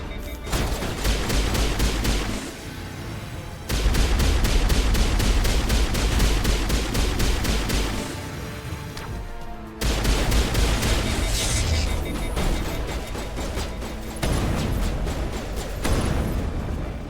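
Heavy modded gun in Mass Effect 1 fires long sustained bursts of rapid booming shots, loud and dense, with brief pauses between volleys.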